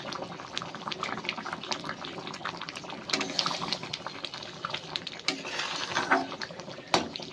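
Moong dal cooked with fish head bubbles and simmers in a pot as garam masala is stirred through, giving a continuous close bubbling with scattered spoon scrapes and clinks throughout.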